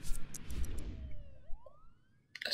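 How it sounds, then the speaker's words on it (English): An ambulance siren in the SimCity city-building game rises in a short sweeping wail over a dull rumble of city noise. Faint clicks follow near the end. "Too many ambulances."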